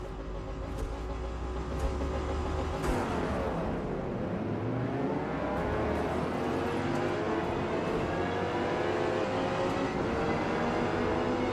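Race car engine revving in Forza Motorsport on PC, an extreme multi-class car: a rising, whining engine note that climbs and sweeps through revs, steady and loud with no voices.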